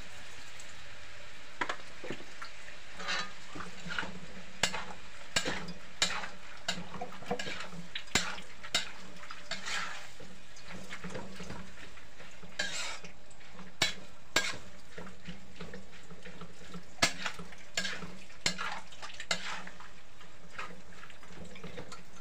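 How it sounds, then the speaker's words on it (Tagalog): Beef innards sautéing in a pan for pinapaitan, a soft steady sizzle broken by repeated light scraping and stirring clinks, fairly quiet throughout. "Gisa lang natin ng mga ilang minuto guys para sumipsip yung tinimpla natin dun sa mga laman loob ng baka."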